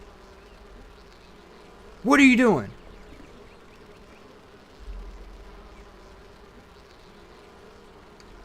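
In the video game Enshrouded, a swarm of bees gives a loud, brief buzzing burst that rises and falls over about half a second against a steady low hum, with a person talking afterward.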